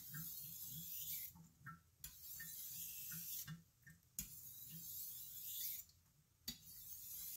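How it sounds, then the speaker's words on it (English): A BBQ knife is dragged gently back and forth across a whetstone to smooth the burr, a quiet steady rasping in repeated strokes with short pauses between sets. "I'm just dragging gently back and forth to kind of smooth out the burr"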